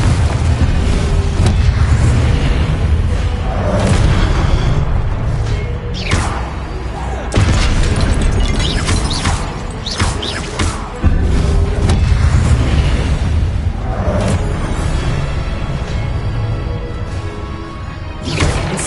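Incendio and Confringo spells exploding in the Hogwarts Legacy video game: repeated heavy booms, crashes and fiery bursts that roll on in dense, loud waves, with no voices.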